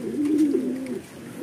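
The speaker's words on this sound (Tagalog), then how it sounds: "Mga ibon." Pigeons or doves coo in a low, rounded rising-and-falling call, fairly close and clear for about a second before tailing off, recorded outdoors in Pozorrubio, Pangasinan.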